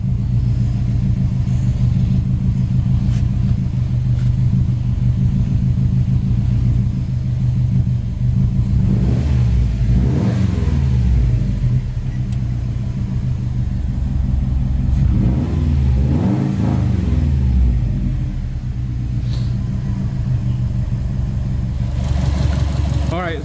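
A 2013 Subaru STI engine, just repaired after an engine knock, rumbles at a steady idle and revs up twice, each rise climbing and falling back, heard up close with no talking.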